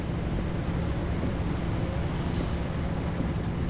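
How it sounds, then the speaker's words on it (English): Rain falling in the trucking game Euro Truck Simulator 2: a steady, dense hiss of rainfall with a low rumble, constant and unbroken for the whole stretch, with no voices. "Oh, and there's the rain."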